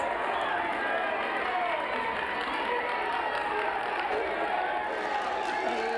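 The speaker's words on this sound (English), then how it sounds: "They're cheering CJ's name right now" A pickleball crowd at the MLP Atlanta 2023 Challenger final cheers and chants a player's name, a steady roar with applause mixed in that holds at an even level throughout, distant and without pause.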